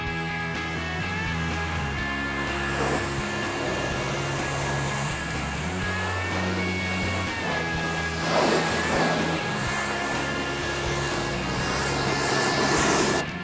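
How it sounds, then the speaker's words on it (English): Pressure washer spraying a car: a steady, loud hiss with a constant motor drone underneath that runs throughout, growing slightly stronger near the end. "this pressure washer that we have it's amazing, and I can get the job done in like 5 minutes"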